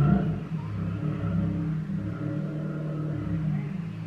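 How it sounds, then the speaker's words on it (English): A car passes by outside a home, a steady low engine rumble and whir holding at moderate level through the whole stretch without speech. "sorry about the car outside."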